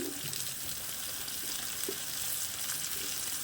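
Beans, carrots and other vegetables fry in a pan for a Bengali shrimp curry, giving a constant faint hiss of sizzling with soft stirring scrapes, no voices.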